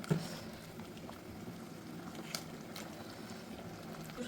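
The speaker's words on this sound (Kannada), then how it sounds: "ಒಂದು ಹಾಫ್ ಆನ್ ಅವರ್ ಚೆನ್ನಾಗಿ ಕುದಿಬೇಕಲ್ಲ ಹೋಗುತ್ತೆ ಓಕೆ ಫ್ರೆಂಡ್ಸ್ ಕುದೀತಾ ಇದೆ" A pot of country chicken bassaru curry bubbles at a gentle simmer, quiet and steady, with soft gurgling and occasional small pops.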